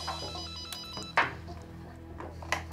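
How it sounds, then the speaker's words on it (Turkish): A phone left in a kitchen rings during an indoor family celebration, a near electronic ringtone with a few bright chimed pulses over a low room hum, no one speaking. "Toprak Hanım, telefonunuz çalıyor."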